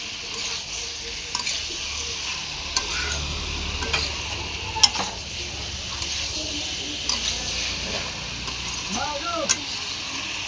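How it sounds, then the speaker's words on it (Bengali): Spatula stirring fried cauliflower and potato with spices in a pan, a soft continuous scraping with a low sizzle and a few sharper clinks against the metal. "ফুলকপিগুলো দিয়ে মশলাগুলো দিয়ে এবার ওপর নিচ করে মিক্স করে দেবো।"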